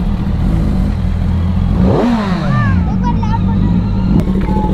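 A Kawasaki Z900 superbike in a village revs hard and loud and close, its engine note climbing and falling in a sweeping rise, with voices and road rumble around it.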